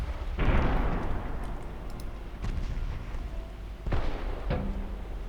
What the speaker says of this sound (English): We scored 1 torpedo hit.